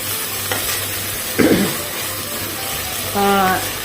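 Soft background sizzle in a frying pan of soya chunks curry after soy sauce is added, with a few scraping stirs and brief clatters, plus a short burst of voice near the end.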